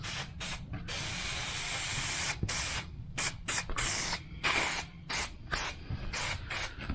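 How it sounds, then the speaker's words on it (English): Spray adhesive hissing from a can onto the edge of a van panel being carpet-lined, in a series of short, close bursts with brief pauses between them, no talking. "Now I'm just going to spray the edge."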